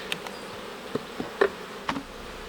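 Honey bees buzz around an Alpine-style beehive as an upper box is added, short faint buzzy passes of individual bees flying close by against a quiet background, with no talking.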